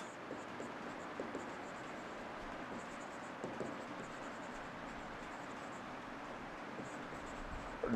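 Chalk or marker writing on a board in a live civil engineering lecture on column design, faint scratchy strokes in irregular bursts against low background hum.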